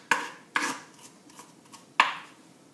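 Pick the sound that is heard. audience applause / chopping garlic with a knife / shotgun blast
chopping garlic with a knife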